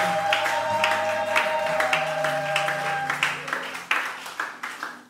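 Church congregation applauding during a French-language service, a dense patter of many hands clapping with a held organ or keyboard chord underneath, gradually thinning into scattered claps toward the end.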